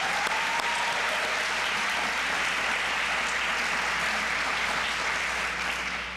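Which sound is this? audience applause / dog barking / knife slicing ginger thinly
audience applause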